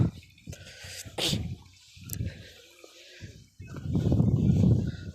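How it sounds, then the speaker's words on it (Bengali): Cattle at a grassy farm near the India-Bangladesh border drink water, making intermittent wet slurping and gulping bursts, close and moderately loud, with brief pauses between draws. "দেখেন কি সুন্দর পানি খেয়ে নিজে নিজে পানি খেলো"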